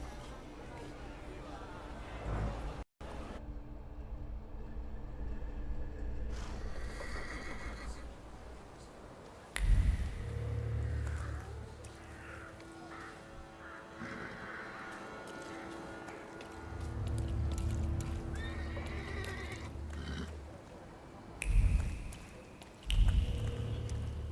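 In the video game The Thaumaturge, a horse neighs loudly several times with clip-clopping hooves and wet squishing movement, mixed with game music and character voices talking throughout.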